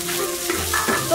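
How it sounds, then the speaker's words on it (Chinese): Dried chillies and Sichuan peppercorns stir-fried in hot oil with scallion, ginger and garlic, giving a brief, steady close sizzle with light stirring for dry-fried green beans. "下入葱姜蒜，下入干辣椒和花椒"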